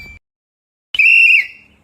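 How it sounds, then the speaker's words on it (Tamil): A PE teacher blows a whistle: one loud, shrill blast of about half a second, near and alone after a short silence. "ஏய் சார் அடிக்கடி விசில் அடிக்கிறாரு"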